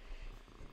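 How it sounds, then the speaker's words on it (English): Pet cat purring close to a microphone, a quiet low rhythmic rumbling purr heard alone for under a second. "So if you hear purring, Pancake has come to join us."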